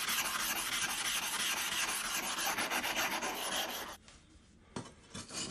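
A sword blade is polished on a coarse grindstone, making a rhythmic rasping, rubbing scrape of steel on stone. The strokes are close and steady, then break off into near silence before a few shorter strokes follow.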